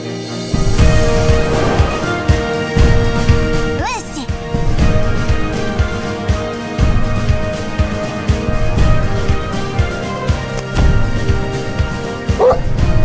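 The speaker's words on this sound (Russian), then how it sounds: "самая известная собака в истории кино" A dog, the collie Lassie, barks and yips in bursts mixed with whimpers, set under dramatic orchestral film music and a voice speaking.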